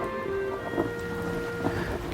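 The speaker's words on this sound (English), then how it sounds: "February 12th, the night of the storm." A nighttime storm sound effect of steady rain with low rumbling thunder underneath, a continuous wash at moderate loudness with a couple of faint soft bumps.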